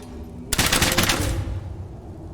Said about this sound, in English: I guess I can set him on fire with Fenrir's guns